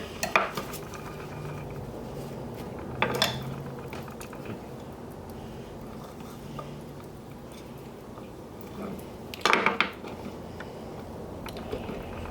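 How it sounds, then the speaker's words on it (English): A knife cuts cooked octopus into serving pieces on a board, with a few sharp clicks and clacks of metal against the board standing out over a quiet background. "And just cut it into pieces for serving."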